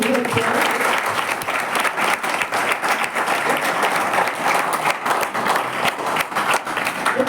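A school audience applauds during a talk, steady dense clapping from many hands that stays loud and even throughout.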